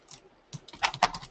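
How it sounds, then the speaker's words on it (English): Quick computer keyboard typing on a keyboard that has issues, beginning with a few soft taps and then a short burst of louder, close keystrokes in an irregular rhythm. "Can you type NCompass Live on there?"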